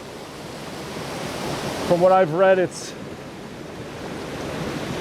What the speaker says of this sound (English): That's Waverly Falls.